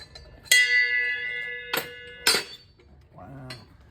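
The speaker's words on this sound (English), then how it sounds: "That's a bell." Antique bell in an antique store struck with a bright metallic clang that rings on with a sustained tone, followed by two more sharp strikes and a brief low clunk, all close and loud.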